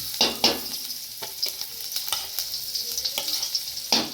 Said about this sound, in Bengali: এই দেখো পেঁয়াজ রসুন আর এই কালো জিরে দিয়ে দিলাম, দিয়ে একটু ভেজে নেব